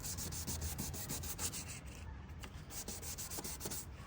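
Steady hand sanding of a BMW E90 headlight lens with 500-grit paper, a continuous rasping scrape with rhythmic back-and-forth strokes, close up and fairly quiet, with no voices.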